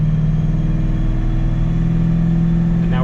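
A car engine revs steadily through the gears toward fourth on a Dynocom chassis dyno, giving a loud, continuous, close-up mid-pitched drone with a slight rise near the end.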